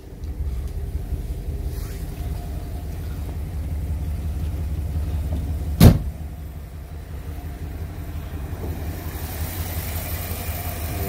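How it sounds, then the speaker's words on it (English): A 1957 Ford Thunderbird engine idles smoothly and steadily up close, a low even rumble with one brief sharp knock or click partway through. "the engine's running these days compared to what it was"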